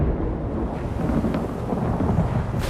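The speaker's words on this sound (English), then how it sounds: "The storm is coming." Thunder of an approaching storm in The Elder Scrolls Online: High Isle, a deep continuous rumble that swells slightly and stays loud throughout, with no voices.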